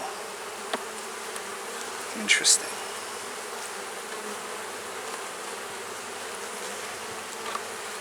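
Soft, steady buzzing of a few honeybees around hive frames fills the background, with a brief closer burst near the middle and a quiet spoken word.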